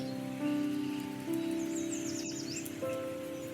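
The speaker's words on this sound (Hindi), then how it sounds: "पानी का संगीत सब आपके कानों में जा रहा है।" A meditation soundscape of flowing water gives a soft, continuous watery hiss beneath sustained layered tones, with a brief flurry of bird chirps in the middle and no talking.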